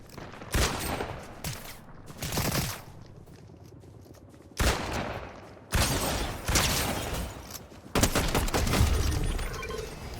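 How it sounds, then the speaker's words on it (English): In Fortnite, enemy gunfire aimed at the player rips out in several loud, close bursts of rapid shots, separated by short quieter gaps. "They're right where the flag is, and they're shooting at me again"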